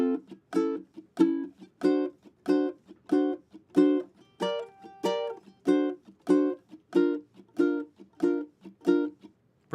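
Four chords strummed on a ukulele in a steady repeating rhythm, each strum a bright, clear burst with quick decay, played close and alone with no talking.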